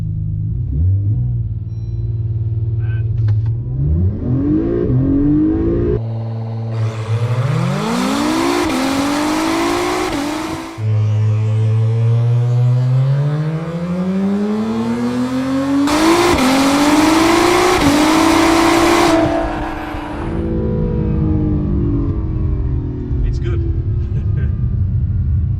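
An Acura NSX fitted with a full titanium dual-mode exhaust with active valves revs repeatedly, each rising engine note climbing and falling back in several loud sweeps close by, with a deep rumble between revs.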